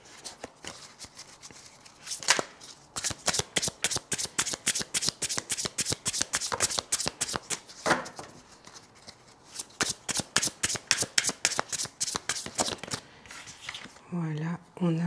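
Tarot cards are shuffled by hand during a reading, a long run of quick crisp riffling flicks close up, pausing briefly and resuming, with a voice speaking near the end.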